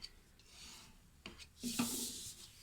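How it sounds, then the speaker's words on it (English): A bone folder or similar tool rubbed firmly along a scored fold line on paper for a folio, giving a soft, close rasping swipe, with fainter brief rubs before it. "And we will burnish the score line."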